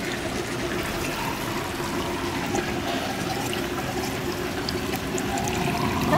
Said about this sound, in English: Coming down the drain.